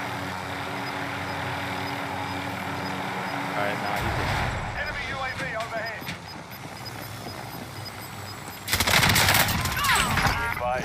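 Gunfire crackles in a Call of Duty Warzone match, with bursts of shots under constant voice chat and a louder stretch of firing near the end.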